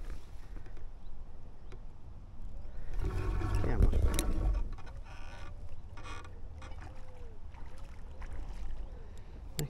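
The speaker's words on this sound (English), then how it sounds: "Fair old splash." A carp splashing in a weedy lake at a Surrey carp fishery, one fairly loud watery burst mid-clip against a quiet outdoor backdrop with faint distant bird calls.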